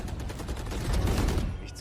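Odin machine gun in a video game letting off a rapid, sustained burst of shots, fairly loud and close, with a voice talking over it.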